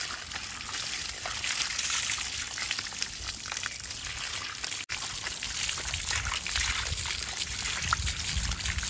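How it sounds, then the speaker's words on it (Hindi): Cold water pours and splashes steadily over a German Shepherd during a bath, a continuous dense wash of running water close by with one brief dropout midway. "ठंडा ठंडा पानी हो मिस्टी, नहा ले आइयो"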